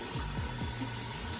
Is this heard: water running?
yes